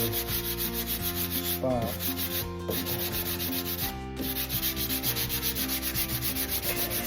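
Sandpaper rubbed by hand over a small dent in a customer's car body panel, a steady loud scratchy scrubbing with short pauses between strokes.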